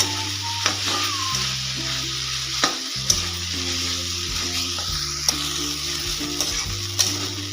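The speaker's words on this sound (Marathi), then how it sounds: "आता छान फ्राय करून घेणार आहे" Maggi noodles fry in a pan after soy sauce and vinegar go in. The sizzle is loud and close, and a utensil stirs and scrapes against the pan in repeated sharp clicks, with no talking.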